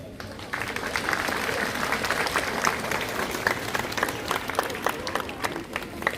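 Sustained applause fills a church gathering welcoming clergy at Banki parish, steady crowd clapping at moderate distance lasting throughout with faint voices mixed in.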